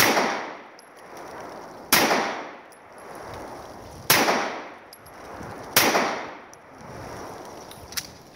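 A Sig Sauer P226 Mark 25 pistol fires four sharp, loud shots on a shooting range, spaced about two seconds apart, each crack followed by a ringing decay.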